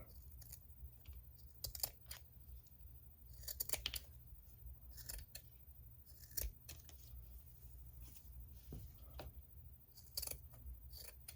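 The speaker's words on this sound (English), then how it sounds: "I'm going to take my scissors and I'm going to give it another trim" Quiet, irregular snipping and small clicks scattered through the clip, like scissors trimming in short bursts, with no talking.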